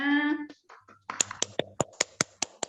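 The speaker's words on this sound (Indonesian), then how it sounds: "Tepuk tangan dulu untuk kita semuanya." Students in a class clap after presentations, a short series of sharp, evenly spaced claps that follows a brief stretch of speech, close and fairly dry.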